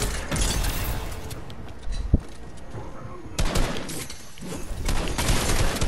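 Gunfire aimed at the player in Fortnite, sustained bursts of shots that surge loudly, dip briefly and return, with a sharp single crack partway through.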